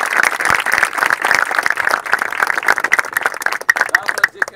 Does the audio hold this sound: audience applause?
yes